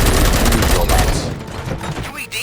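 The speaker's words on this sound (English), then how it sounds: "Gunshots? What's going on?" Rapid gunfire bursts crackle loud and close in the RoboCop: Rogue City video game, a dense fusillade that tapers off slightly toward the end.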